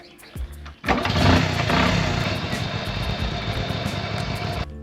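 A Honda C90 motorcycle is kicked over and its small single-cylinder engine catches, settling into a steady, loud, close idle after a couple of brief kick thumps.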